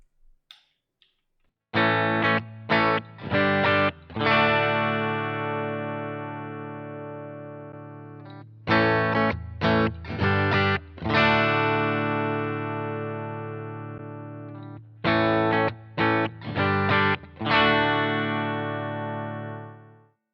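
An electric guitar plays through a Boss GT-1 multi-effects unit set to a 1x12 speaker cabinet type, in three bursts of quick chord stabs, each ending in a long sustained ringing chord, with no voice.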